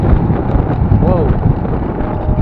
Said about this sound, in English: Strong gust of wind around the buildings. Produces kind of like a wind tunnel effect.